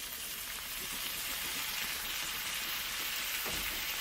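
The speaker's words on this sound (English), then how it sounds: "except for the sizzling bacon, which is recorded in stereo." Steady crackling sizzle of bacon frying in a pan, continuous and close, with no voices.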